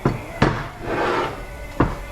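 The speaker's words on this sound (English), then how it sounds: "We got to try to knock this loose." Sharp metal knocks strike a stuck part on an SS 815 air starter during teardown: three loud, separate blows spaced irregularly across a short span, with a ringing clatter between them.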